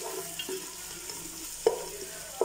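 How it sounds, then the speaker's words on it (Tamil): Prawns sauté in hot oil for prawn biryani, a low steady sizzle with occasional stirring scrapes and a few sharp spatula knocks against the pan, close by and without talk. "இறா வந்து ஒரு 5-6 நிமிஷம் நல்லா இதை வதக்கிக்கோங்க"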